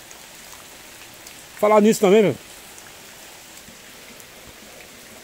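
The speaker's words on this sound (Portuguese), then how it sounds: "Eu quero que a chuva continue chovendo, né?" Steady rain falls in Estrela de Alagoas, Brazil, as an even hiss throughout. Someone briefly speaks over it midway.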